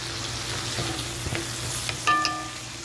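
Garlic frying in a pan gives a steady, close sizzle with faint stirring scrapes and a brief clink near the end, and no voices.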